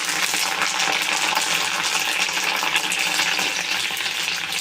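Curry leaves sizzle and crackle in hot oil with mustard and cumin seeds for a sweet lemon pickle, a dense, steady, close hiss with occasional stirring clinks.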